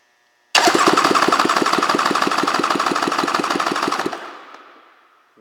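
A 2003 Polaris MSX 140 personal watercraft engine cranks over during a compression test. Fast, even chugging pulses, loud and close, run for about three and a half seconds before stopping abruptly.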